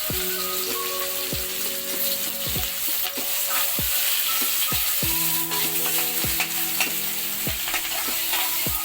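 Onions fry in a pan for a catfish curry, with a constant sizzle and a spatula scraping and stirring at a regular rhythm, roughly once a second, close up.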